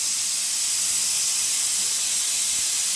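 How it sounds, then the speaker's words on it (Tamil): A pressure cooker whistle releases a loud, continuous hiss of steam while cooking a restaurant-style paya, steady and close for the whole stretch with no talking. "குக்கர் விசில் போட்டுடலாம்."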